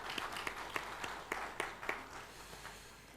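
A church congregation at a Korean Sunday worship service applauds the Hosanna choir with a soft, diffuse clatter of many hands and a few louder claps standing out, heard at a moderate distance.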